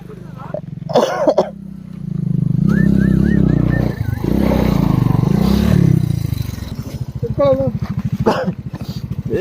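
Royal Enfield Himalayan motorcycle climbing a rough off-road hill track, engine droning loudly and steadily then revving unevenly, with people shouting and talking over it close by.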